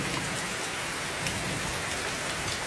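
Steady rainfall, a continuous broadband hiss of drops on surfaces, even and unbroken throughout with no voices or distinct thunder.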